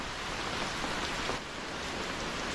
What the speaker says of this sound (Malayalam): വലിയ മഴ പെയ്താൽ ചിലപ്പോൾ പെട്ടുപോകും മഴ പെട്ടെന്ന് അങ്ങനെ കുറയണ ഒരു ലക്ഷണമില്ല